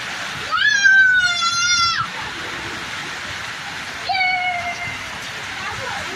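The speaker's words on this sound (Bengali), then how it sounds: "এখন জোরে সোরে বৃষ্টিটা এসেছে" Heavy rain pours down in a steady, dense hiss, with voices talking over it in short stretches.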